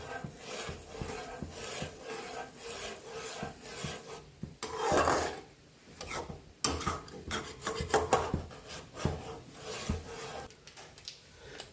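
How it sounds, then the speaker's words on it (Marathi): A spoon scrapes and rubs steadily against a pot of milk simmering down for basundi, a soft, close, rasping rhythm with occasional louder knocks of utensil on metal and no talking. "दूध सातत्याने हलवत राहायचं आहे"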